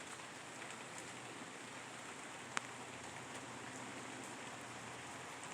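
Steady rain falls outdoors as a soft, even hiss, with a single sharp click partway through and no talk.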